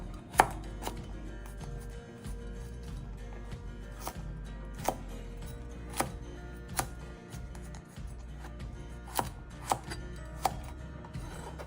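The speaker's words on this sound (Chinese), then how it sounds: "我們來將葉梗切細了" A knife chops cabbage stems finely on a cutting board, giving steady, fairly quiet taps at an irregular rhythm over a low background hum, with no talking.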